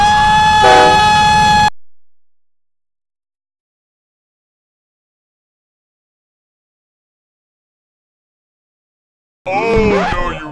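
A loud train horn in a cartoon blares for under two seconds, then cuts to silence before a burst of animated voices and sound effects returns near the end.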